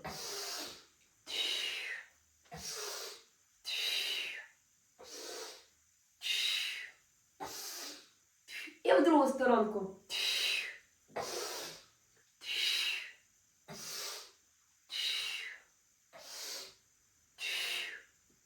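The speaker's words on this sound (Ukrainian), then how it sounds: "Ось так гарненько вдих і видих." Deep, rhythmic breathing during a torso-twisting exercise, about a dozen loud, close breaths evenly spaced roughly every 1.5 seconds, with one longer, rougher breath near the middle.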